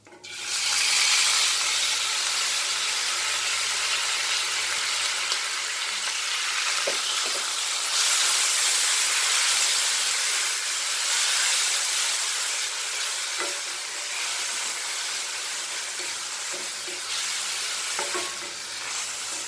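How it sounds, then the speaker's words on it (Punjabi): Grated onion frying in a pan of oil with roasted carom seeds and asafoetida, a steady loud sizzle with occasional stirring scrapes throughout, no talking. "ਜਵੈਣ ਤੇ ਹਿੰਗ ਜਿਹੜੀ ਭੁੰਨੀ ਗਈ, ਕੱਦੂਕਸ ਕੀਤਾ ਹੋਇਆ ਪਿਆਜ਼ ਪਾ ਦੇਣਾ ਆ"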